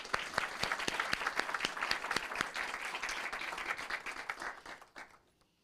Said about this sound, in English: let's give you and your team a well-deserved round of applause